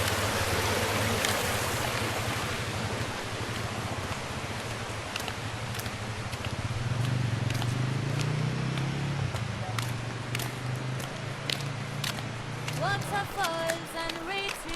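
Water at Crystal Cascades near Cairns rushes steadily from a waterfall and stream as a broad, continuous wash, with a low hum and a few clicks near the end.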